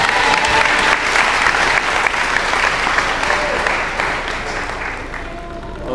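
A congregation at a praise and worship gathering applauds in a sustained dense burst of clapping that slowly tapers off, with a voice faintly heard beneath it.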